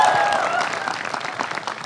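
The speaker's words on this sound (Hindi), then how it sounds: "इन तालियों की आवाज यकीनन आप तक पहुंची होगी सर" A TV studio audience gives loud, sustained applause that fades slightly over time, and a brief tonal sound rings out at the start.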